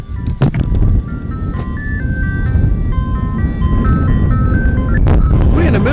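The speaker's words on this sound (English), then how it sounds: "Is that the ice cream truck?" An ice cream truck in a remote spot near Egypt, California plays its tinkly jingle melody continuously, loud and clear over a vehicle rumble, with brief knocks and background voices.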